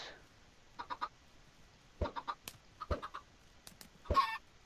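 Short bursts of chicken clucks come in small clusters with quiet gaps, sounding like game sound effects, fairly faint against near silence.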